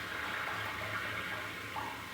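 Water rushing and gurgling down a drain pipe in a house after a soft clog gives way, a steady broadband wash of flowing water without pause.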